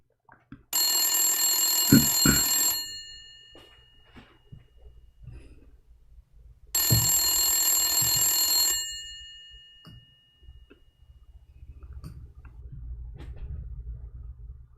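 A hardline telephone rings unanswered, two long electronic ring bursts of about two seconds each separated by a pause, loud and close, with low rumbling background noise between them.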